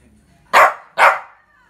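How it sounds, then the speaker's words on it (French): A hungry pet dog asking for its meal gives two sharp, loud barks close by, about half a second apart, with quiet in between. "mon chien aboie à chaque fois qu'il a faim"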